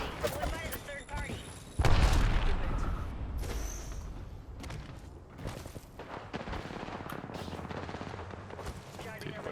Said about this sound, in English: why are you shooting at me, dude?